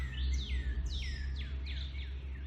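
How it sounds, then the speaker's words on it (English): Birds chirp outdoors in a quick series of high, sweeping tweets, four or five calls in a row, clear but moderately distant over a low background hum. "You hear the birds?"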